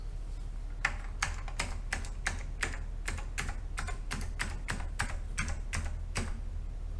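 Keys clack on an OmniKey 101 mechanical keyboard during testing, a quick, steady run of about eighteen sharp strikes, close and crisp over a low background hum, with no talking.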